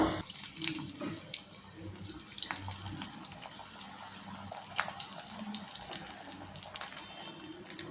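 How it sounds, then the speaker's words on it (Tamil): Pakoda dough balls frying in hot peanut oil, a steady dense crackle and fizz of bubbling oil with a few sharper pops, close and continuous throughout. "இப்போ நம்ம எண்ணெயில் போட்டு பொறிச்சு எடுத்துக்கலாம்"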